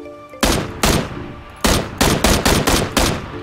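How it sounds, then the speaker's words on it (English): Gunfire in PlayerUnknown's Battlegrounds: loud, close shots in separate bursts, a couple of single cracks followed by a rapid run of five or six shots, with no talk over them. "there's somebody shooting"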